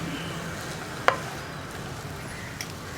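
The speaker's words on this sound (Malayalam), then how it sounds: "ഇനി വെണ്ടയ്ക്കയും ചേർത്ത് ഒന്ന് ഇളക്കിയതിന് ശേഷം" An ivy gourd and okra stir-fry being stirred in a pan, a faint steady sizzle with one sharp utensil click near the start and a softer tap later, no voices.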